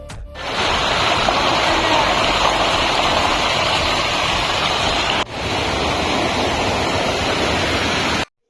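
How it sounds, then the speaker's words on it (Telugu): A loud, steady roar of falling water at Thumba waterfall in the Jagamarla forest near Palamaner fills the scene, broad and continuous, with a brief dip partway through before the rush resumes. "ఈ వాటర్ ఫాల్స్ దగ్గర వచ్చారంటే ఈ వ్యూ ఎలా ఉంటుందో చూడండి"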